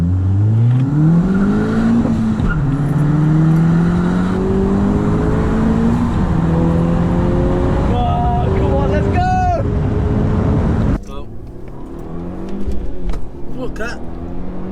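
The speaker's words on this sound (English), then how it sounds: "The third gear of that Colt is crazy!" A Mitsubishi Colt accelerates hard in third gear at a car meet, its loud engine note climbing steadily in pitch for several seconds before cutting off sharply into quieter background noise.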